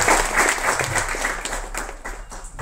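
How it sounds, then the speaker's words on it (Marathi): An audience breaks into applause, a dense wash of many hands clapping that holds steady and then thins out slightly toward the end, fairly loud and close. "तुम्ही टाळ्या आधीच वाजवले"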